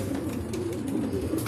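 Racing pigeons landing at their home loft after a training release from Santa Fe, with soft cooing among steady outdoor ambience and low background rumble, no talking.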